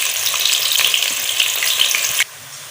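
Chopped onion sizzles and crackles loudly in hot ghee, a dense close frying hiss with light stirring, easing off sharply near the end.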